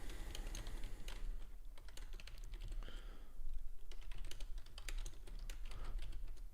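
Steady, quick clacking of keys on a computer keyboard, close by, with brief pauses between bursts of typing.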